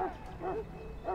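A dog barks in a castle setting in the fantasy role-playing game Dragon Age: Origins, producing a few short, fairly close woofs with a whimpering, roar-like tone.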